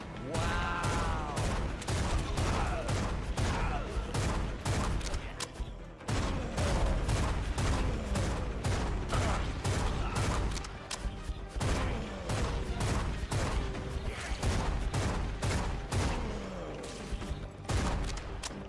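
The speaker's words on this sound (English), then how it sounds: "Neat fireworks." Rapid fireworks explosions in a video game, dense continuous bursts and crackling pops lasting throughout, loud and close, with occasional brief voice underneath.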